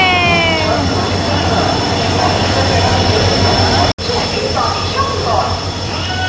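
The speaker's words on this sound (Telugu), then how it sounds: "మా తిరుపతి ట్రైన్ వచ్చేస్తోంది." A Visakhapatnam to Tirupati passenger train pulls into a station with a loud, steady rumble of wheels and carriages, while people talk nearby.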